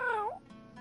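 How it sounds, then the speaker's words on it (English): A small black cat-like creature in the video game Date Everything gives a single short, rising-then-falling meow, close and clear, followed by faint quiet background. "A small creature that looks rather like a black cat rubs up against Mateo's leg,"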